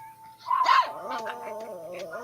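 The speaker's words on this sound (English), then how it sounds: "You hear that dog?" A dog gives a short whining bark followed by drawn-out whimpering yelps, close by, over a quiet background with a faint tone.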